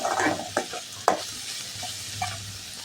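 Onion sevai is stirred in a pan over low heat, with a few sharp scraping strokes and a soft sizzle underneath, quiet and close.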